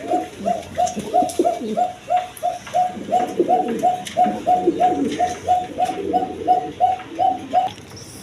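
A pair of red Danish pigeons coo in a rapid, regular series of about twenty throaty pulses, close and fairly loud. Faint background noise runs underneath.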